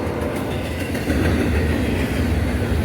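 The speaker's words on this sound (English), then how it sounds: "Grand Canyon Railway locomotive 4128, which is an ex-New Jersey Transit F40PH with a killer K5 LLA" A Grand Canyon Railway F40PH diesel locomotive passes, rumbling loudly and continuously up close, a heavy low roar with rattling wheels and no voices.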